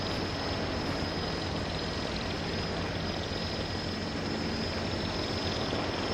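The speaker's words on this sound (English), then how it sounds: "The drone's just gonna be loud and annoying." A drone flying in the game Voices of the Void gives off a steady, loud, broadband whirring roar that fills the whole stretch without a break, with no voices over it.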